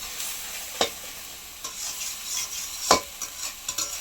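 Thick spice paste with a little sugar frying in oil, soft steady sizzle broken by two sharp scraping stirs of a spatula, close and alone.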